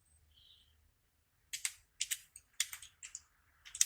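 Someone types into an AI image generator prompt on a computer keyboard: a faint tone at first, then a series of crisp, separate keystrokes in small clusters, close and fairly loud.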